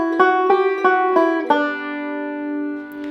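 Banjo picking the melodic line of the fiddle tune Liberty, five quick plucked notes in a steady run before a final note rings out and slowly decays, clear and close.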